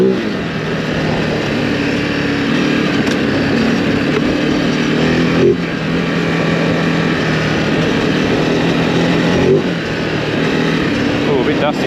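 A Ducati Desert X motorcycle ridden on a dusty road: a steady, loud engine drone with wind rush running throughout, holding a fairly even pitch.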